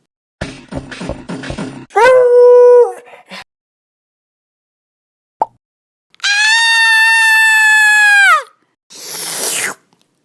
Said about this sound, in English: Gozer's terror dogs are about to wake up